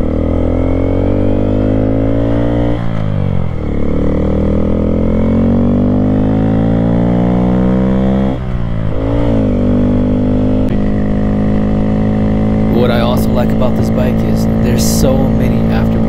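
A Honda Grom motorcycle engine drones steadily and loudly up close while riding, its pitch swelling and dropping through gear changes and a slowdown for a turn, with a rider's voice talking over it.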